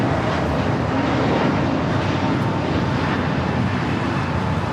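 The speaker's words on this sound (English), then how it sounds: "This is Frontier 4316 taking off to Atlanta on the A320 Neo Summer the Swan livery." Frontier Airlines Airbus A320neo taking off at Los Angeles airport, a steady broad roar of jet engines at full thrust, loud and continuous throughout with some wind rush.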